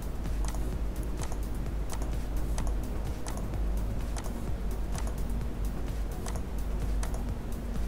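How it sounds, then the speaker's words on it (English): Computer keyboard keys are tapped in quick irregular bursts while copying lines in AutoCAD, with sharp close clicks over a steady low hum and no speech. "press CO and press spacebar on my keyboard for copy"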